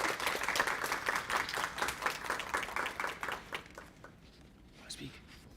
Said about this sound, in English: Give her another round of applause for being published.